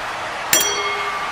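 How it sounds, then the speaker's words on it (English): A wrestling ring bell is struck once at an ECW Hardcore Championship contender match: a sharp, bright clang that rings briefly over steady arena background noise. "the bell ring, and here we go"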